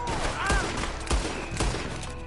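Three heavy gunshots ring out in Red Dead Redemption 2, spaced about half a second apart with booming low thumps, while faint voices carry in the background.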